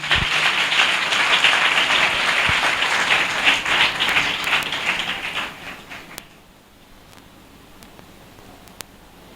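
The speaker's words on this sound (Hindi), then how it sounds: "ज़ोरदार तालियां ज़रूर बजाएं।" A church congregation at a live Sunday sermon breaks into loud, sustained applause for about six seconds, then it cuts off to near quiet with a few isolated taps.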